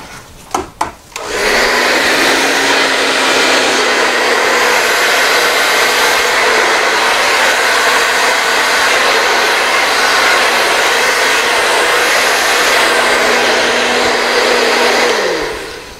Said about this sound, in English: I'm gonna try the blow dryer.